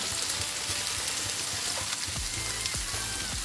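Bottle gourd pieces fry in oil in a pan for bharit, a steady crackling sizzle close by with a few soft stirring scrapes toward the end.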